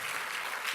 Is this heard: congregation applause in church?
yes